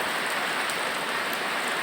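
Steady rain falls and hisses on a surface, a dense even patter that stays constant and fairly loud throughout.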